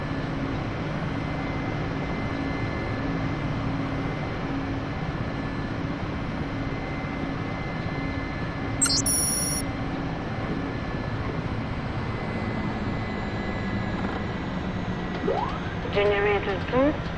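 Twin engines of a Mi-8 helicopter in the DCS flight simulator wind down after landing: a steady, dense turbine roar and whine, with a short burst of high electronic tones partway through and faint rising chirps near the end.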